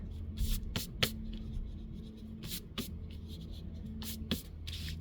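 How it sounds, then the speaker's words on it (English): A pencil line being rubbed out with an eraser on paper in a children's mixed-media art project: repeated brisk scrubbing strokes in short bursts, close and fairly quiet, with a low steady hum underneath. "I'm going to go ahead and erase my pencil line."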